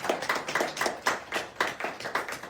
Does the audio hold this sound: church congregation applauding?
yes